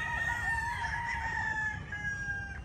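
A young white gamecock rooster, raised for fighting competitions, crows one long drawn-out call near and clear over a low outdoor rumble.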